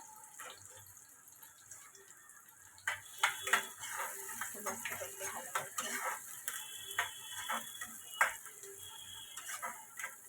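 A spoon stirs moth bean curry with onion in a pan, producing a quiet background hiss followed by repeated clinks and scrapes from about three seconds on, fairly close and irregular.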